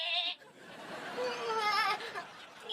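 A woman in a TV episode makes goat-like bleating noises, a wavering, quavering voice in a few short bursts, close and fairly clear, imitating a goat.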